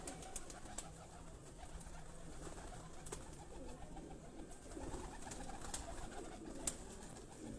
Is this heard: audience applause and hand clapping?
no